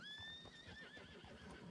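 A horse neighs in Red Dead Redemption 2, a clear whinny with rising and falling pitch over a steady noisy background, close and fairly loud, with no talk.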